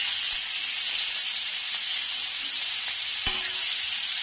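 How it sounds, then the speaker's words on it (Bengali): Raw jackfruit pieces fry in about half a cup of oil in a kadai, giving a steady, even sizzling hiss with one brief clink partway through. "আমি এই কাঁচা কাঁঠালগুলো এই তেলে ভেজে নিব"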